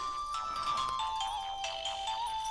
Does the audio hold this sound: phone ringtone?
yes